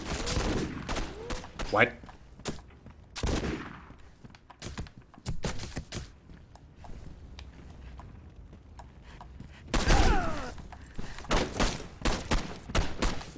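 Gunfire from a low-recoil gun in the video game Condemned 2, a few sharp bursts separated by quieter stretches, mixed with game sounds and a brief spoken word.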